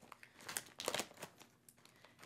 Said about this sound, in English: make sure that you're only cutting just the very end here because of the way they package it